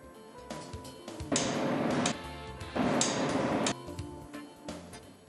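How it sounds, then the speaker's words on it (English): A torque spanner tightening the coupling pieces on a high-pressure fuel oil valve, heard as two sustained bursts of metallic ratcheting and grinding over a low mechanical background, close and fairly loud. "Tighten the coupling pieces using the torque spanner."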